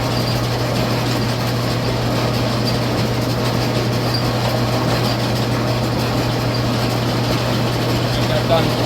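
Silo loader motor running on a dairy farm, a steady loud mechanical drone with a constant low hum and rattling machinery noise, unchanging throughout, with faint talk beneath.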